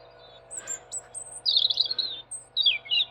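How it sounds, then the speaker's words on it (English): A robin sings outdoors on a spring walk in the Derbyshire countryside, clear bright phrases and trills repeating over about three seconds, fairly close and alone over faint low background hum. "Isn't that robin lovely? It's just full of birdsong today."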